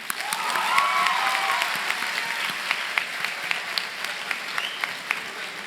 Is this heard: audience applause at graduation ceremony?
yes